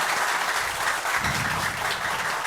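A school quiz-show audience in Haiti applauds steadily, a dense wash of clapping from many hands with no break.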